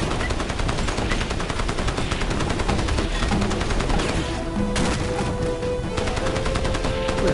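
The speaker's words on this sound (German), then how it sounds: "Oh, da kommen wir in die Schüsse." Dense, continuous gunfire in the video game Crysis, with rapid automatic bursts, loud and close, carrying on steadily with no voices.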